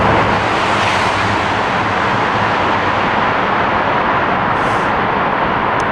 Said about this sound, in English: I think there's a car approaching and you can already hear it coming from far, far away, and it's pretty intense when it finally approaches.